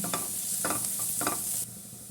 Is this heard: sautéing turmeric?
yes